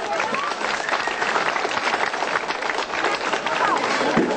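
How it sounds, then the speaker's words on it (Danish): An audience at a globe of death motorcycle show claps in a dense, steady burst of applause, with crowd noise and voices mixed into it. "Skal vi give ham lille bifald?"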